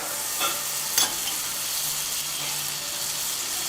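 Leftover butter melting in a hot cast iron skillet, a steady close hiss of sizzling with a couple of brief clinks near the start.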